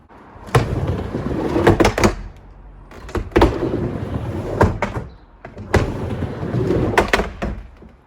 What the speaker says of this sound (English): here's how the ramp sounds currently with no dampening and my hard compound wheels